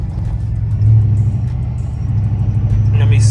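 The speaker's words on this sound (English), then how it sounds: "Let me hopefully y'all can hear the torque storm, bro." A Chrysler 300 fitted with a Torque Storm supercharger drones at a low, steady rumble heard from inside the car, with a brief rise in engine tone, while someone speaks over it.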